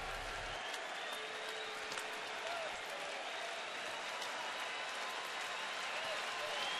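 A baseball stadium crowd at a Detroit at Cleveland game applauds and murmurs, a steady, distant wash of clapping and crowd noise filling the ballpark without pause.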